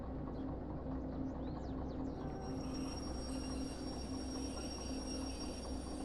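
Low rumble of a train in the video game Derail Valley braking, with a faint high squeal of brakes and wheels, steady and moderately distant.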